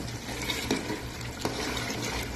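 Liver and chickpeas cooking in a pan, a steady sizzle with occasional stirring scrapes and clinks of utensil against metal, close and moderately loud.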